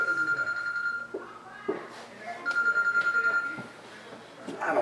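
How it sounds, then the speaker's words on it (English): A telephone rings indoors in repeated electronic trilling bursts, several rings spaced apart, while people talk over and between them. "Phone's ringing again."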